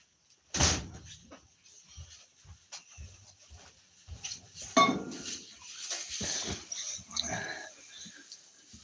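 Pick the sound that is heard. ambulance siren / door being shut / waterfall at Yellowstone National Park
door being shut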